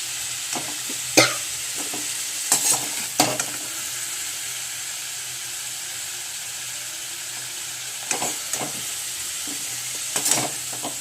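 Bay leaves and whole cumin seeds frying in hot oil left over from frying potatoes, giving a soft steady sizzle broken by several sharp spatula scrapes and stirs against the pan.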